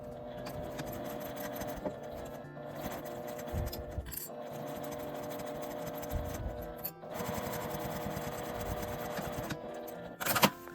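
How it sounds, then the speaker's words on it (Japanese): A sewing machine stitches the seam of a small round fabric coin purse out to the edge, a steady close mechanical whir with fine rapid texture, briefly pausing a few times and ending with a short louder clunk near the end. "さっき縫った縫い目の下を端まで縫います。"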